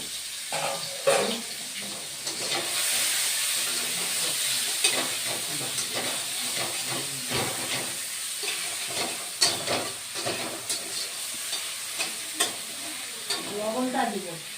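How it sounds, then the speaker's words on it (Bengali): Potato, cauliflower and paneer fry in a pan with steady broadband sizzling, broken by scraping stir strokes throughout and a few clattering knocks near the end, with no talk. "পনির ভাজা হয়ে গেছে বন্ধুরা, আর আলু ফুলকপিও ভাজা হয়ে গেছে"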